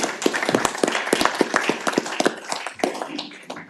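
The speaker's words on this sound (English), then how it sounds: "I think we owe our staff a round of applause" A small group at a Virginia Senate Finance committee meeting breaking into applause, a brisk patter of hand claps close by that carries steadily for a few seconds.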